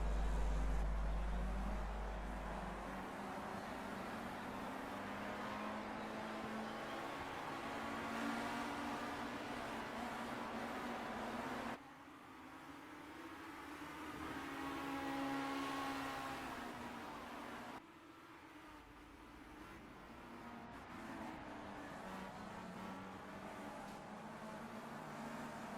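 Race cars rolling into a start in a Project CARS 2 replay, engines droning and revving at a low to moderate level with shifting tone as the view changes, no voices.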